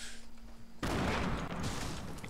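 Burst of video game gunfire erupts after a quiet moment and keeps rattling loudly and densely to the end, with no voices over it.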